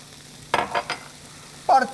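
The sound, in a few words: whisking red wine vinegar, olive oil and Dijon mustard dressing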